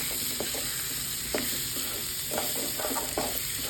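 Baby potatoes sizzle steadily in a frying pan while a utensil stirs them, giving several short scraping knocks against the pan over the constant frying hiss.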